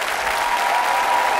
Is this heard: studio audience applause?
yes